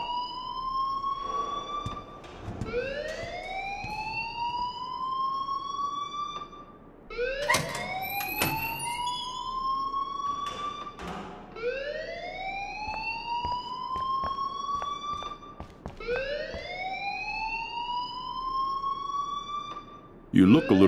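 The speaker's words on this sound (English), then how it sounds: "please turn off that alarm since that's your job" A loud alarm in the video game Life Is Strange wails in repeated rising sweeps, about five cycles, each climbing then holding, with a brief break between them and faint background noise underneath.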